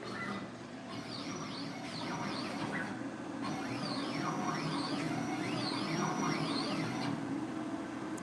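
A Langmuir Systems CrossPro CNC plasma table on a dry run, its stepper motors whining in repeated sweeping, swooping tones as the gantry moves back and forth, steady and continuous over a low hum.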